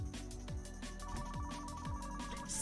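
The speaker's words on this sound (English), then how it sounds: "Why is the phone ringing again?" An in-game telephone rings in the mechanic simulator Car Mechanic Simulator 2015, a repeating electronic ringtone in short rhythmic bursts, fairly quiet and heard alone.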